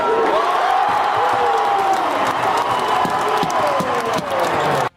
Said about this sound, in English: listen to the crowd after Kevin Ware's shot